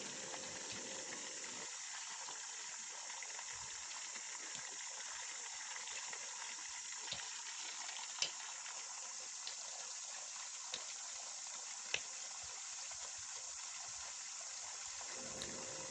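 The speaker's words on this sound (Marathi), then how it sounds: "झाडं लावून झाडांना मोटारचं पाणी दिलं" Water from a motor pump gushes steadily onto plants outdoors, a constant hissing rush with a few faint ticks and knocks over its whole length.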